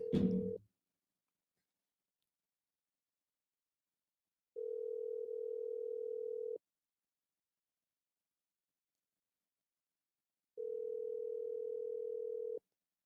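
A phone call ringing unanswered: a short burst of sound opens, then two long steady ringback tones about six seconds apart, clean and alone with silence between.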